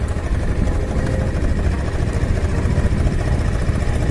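A motorbike engine drones steadily and loudly throughout as the rider travels through a Chakma village in Changlang district, Arunachal Pradesh, with no talk over it.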